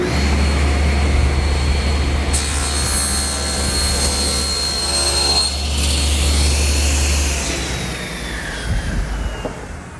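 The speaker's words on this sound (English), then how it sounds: "The first thing I do is take the joiner and make one pass so that I have a perfectly straight and square edge" A jointer planes the edge of a wooden board in a woodworking shop, a loud, continuous machine whine and hum with the cutter's pitch shifting during the pass.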